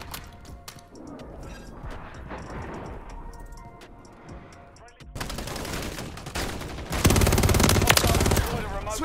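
Heavy gunfire in a shooter video game, with dense bursts of rapid shots that grow louder and more sustained toward the end, over a constant busy background of game noise.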